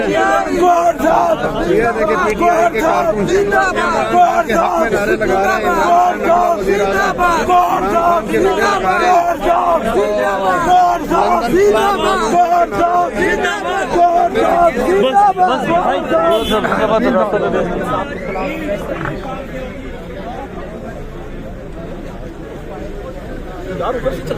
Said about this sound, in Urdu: اس وقت عمران خان کے حق میں یہاں پر نعرے لگائے جا رہے ہیں